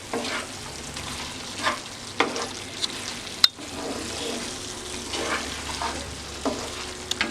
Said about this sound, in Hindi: अब हम इसे थोड़ा सा मिक्स करेंगे